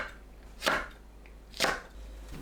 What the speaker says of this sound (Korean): 청양고추, 홍고추를 1cm 길이로 썰어주세요.